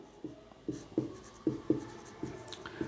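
Chalk or marker strokes on a classroom board as a teacher writes notes for a geography lesson, a series of short scratchy taps in uneven rhythm, close and fairly quiet, with no talking.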